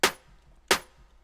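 Layered drum samples, a kick with two stacked snares, struck twice about 0.7 seconds apart, each a sharp dry crack that decays quickly, alone with no other sounds.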